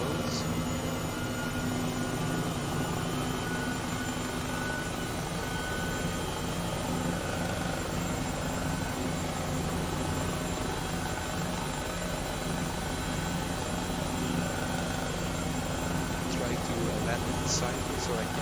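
Simulated Airbus H135 helicopter hovering over a helipad in MSFS2020: a loud, constant rotor and turbine drone fills the whole stretch, steady and unbroken.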